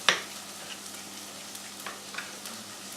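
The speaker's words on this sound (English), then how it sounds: "Give that little stir every now and then, a little shake. You see it's just starting to brown a little." Chilli con carne ingredients fry quietly in a pan. A sharp clatter of stirring comes first, then a soft, steady sizzle with a few light knocks.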